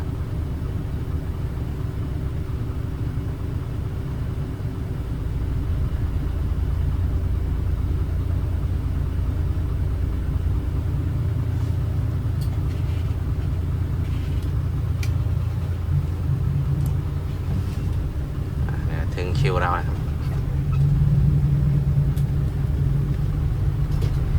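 A white Isuzu Deca dump truck with a 105 engine drives along with its windows open, giving a steady, loud low engine rumble and road noise throughout, with a brief higher whine near the end.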